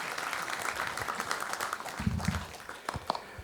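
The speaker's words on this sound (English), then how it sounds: "round of applause for Nimai, for Sheetal, and for the entire alumni committee" An audience at an alumni reunion applauds, producing a dense, steady wash of clapping heard at a moderate distance with a faint murmur of voices.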